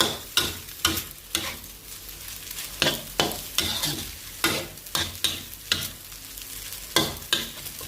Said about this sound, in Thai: ผัดต่อจน จนเส้นสุกนะคะผัดสุกใช้ได้เลยนะคะ